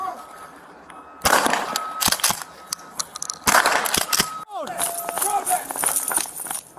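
A police beanbag shotgun is fired at a burglary suspect with a few sharp, loud bangs close by. People shout in between the shots.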